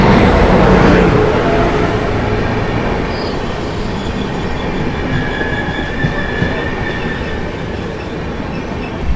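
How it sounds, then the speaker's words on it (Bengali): The 12340 Coalfield Express rolls into Mankar station with a loud, steady rumble of wheels on rail, faint squealing of wheels and rhythmic clatter as the coaches pass close by. "মানকর স্টেশনে আমাদের সাথে দেখা হবে 12340 কোলফিল্ড। এই ঢুকছে কোলফিল্ড।"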